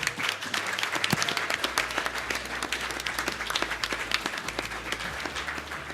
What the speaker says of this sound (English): if we could just have a round of applause for my staff who put all this together